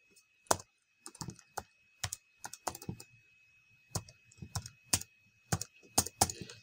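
Domain name typed on a computer keyboard, crisp close key clicks in uneven bursts and short pauses, quiet and alone.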